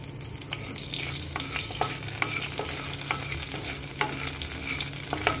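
Cloves and shahi jeera crackle and sizzle in hot ghee for nawabi sabut moong, a steady frying hiss broken by sharp little pops and faint stirring, close and with no voices.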